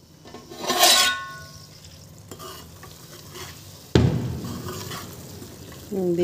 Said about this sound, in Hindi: अब थोड़ी देर भुनेंगे इसको, 5-7 मिनट।